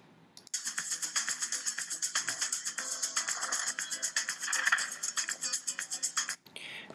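Background music plays back inside a video editor, a steady rhythmic track with regular pulsing beats running for several seconds before stopping abruptly.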